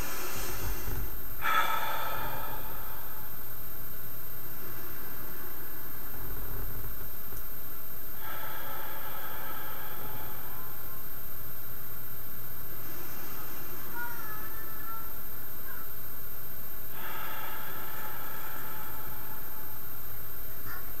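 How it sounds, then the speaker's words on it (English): Deep, loud breathing during a calming exercise, long drawn breaths repeating every few seconds over a steady background hum, close and without talk. "If you learn to breathe like this"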